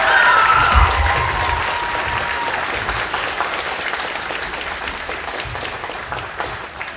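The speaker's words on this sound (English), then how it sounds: "can we give one more round of applause for the high school band" An audience at a high school band concert claps steadily in sustained applause, with the clapping gradually thinning and softening toward the end.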